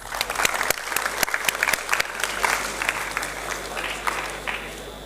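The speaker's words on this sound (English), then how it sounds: "Please give him a big round of applause" A seated audience applauds a professor being welcomed onto the stage at a university ideathon event, steady dense clapping with sharp individual claps standing out over a continuous wash, sustained at an even level throughout.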